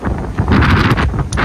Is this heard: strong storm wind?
yes